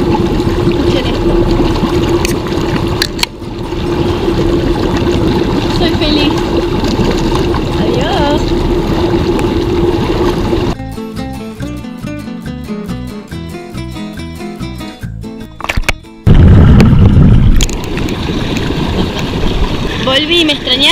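River water flows steadily through the jungle at Iguazu, a continuous broadband rush heard near and loud, with voices talking over it and a burst of music partway through.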